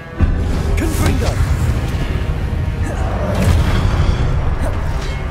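A spell blast goes off in Hogwarts Legacy on PS5, a booming burst with a whooshing edge over a thick low rumble of game sound, loud and close, with a voice speaking under it.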